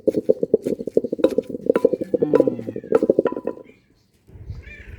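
A cat meows repeatedly and close by in a kitchen while a Thai sour curry with cha-om omelette is being cooked, the calls overlapping busy talk, then a brief pause and softer sounds at the end.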